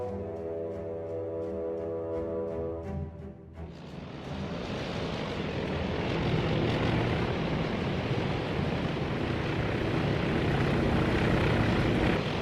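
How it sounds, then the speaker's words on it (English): Carrier aircraft fly over in the naval video game World of Warships. A droning propeller engine with layered tones gives way to a broad, swelling roar that builds and holds to the end. "Aircraft continuing to be spotted over here for both carriers."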